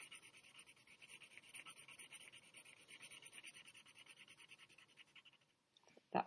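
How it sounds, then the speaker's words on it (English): A pencil shading boxes on paper in steady, rapid back-and-forth scratching strokes, close and quiet, ending with a brief clatter. "I need to move my pencil a little more slowly."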